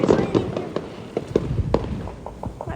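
Fireworks going off outdoors on a rainy New Year's night, with a string of scattered pops and thuds at varying distances and some faint background voices.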